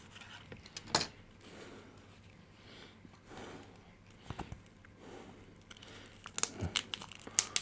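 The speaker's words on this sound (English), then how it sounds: "Let me just snip the sellotape on this one." Sellotape on a well-wrapped package is snipped open, giving a few sharp, quiet cuts with soft crinkling of the wrapping between them, close by and with no talking.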